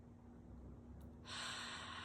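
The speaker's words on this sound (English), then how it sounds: "So now we would just take a nice big deep breath in" A quiet pause gives way to a sudden, close, breathy inhalation through the nose or mouth, a deep breath in that lasts under a second and fills the air with soft hiss.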